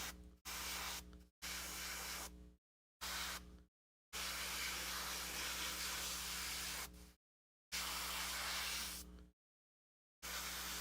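Bursts of airbrush spraying thinned paint straight from the pot, each a steady broadband hiss lasting from under a second to about three seconds, separated by short silences, close and fairly loud with no talking.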